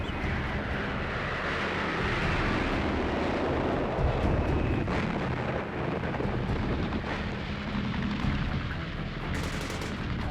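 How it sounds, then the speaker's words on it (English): Vietnam War Skyraider aircraft drop napalm bombs: a continuous, loud barrage of deep blasts and rumbling booms, dense and overlapping throughout. "Sky Raiders prepare the way with their terrifying napalm bombs"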